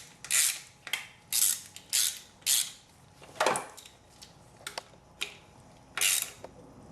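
Ratchet tightening 10mm bolts on an intake manifold bracket during an SR20DET engine swap into a Nissan 240SX, giving a run of separate sharp clicking bursts at close range, with short pauses between them and no voices.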